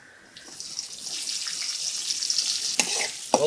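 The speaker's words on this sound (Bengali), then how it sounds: "চুলায় করাই দিলাম তেল এলাচ দারচিনি পেঁয়াজ কুচি" Onion, cardamom and cinnamon hitting hot oil in a wok, a sizzle that swells and steadies into a continuous hiss, with a couple of sharp clatters near the end.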